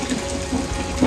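Rice being washed in water for a rice cooker while cooking chicken curry, a short steady wash of running, swishing water, fairly close and with no talk.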